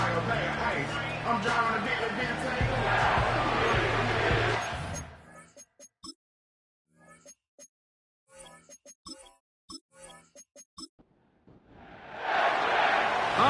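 A dense football stadium crowd roars loudly at an NFL game between the Seahawks and Jets, cuts off into quieter speech-like sounds, then swells back into a loud crowd roar at the end.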